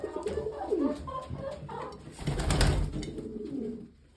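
Pigeons coo in soft, repeated throaty calls close by, with a brief louder rustle midway.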